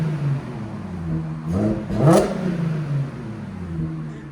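A 2013 Audi S4 with a supercharged 3.0L V6 and aftermarket cat-back exhaust revs up sharply a couple of times, rising to a throaty peak then settling back to a low idle; no talking.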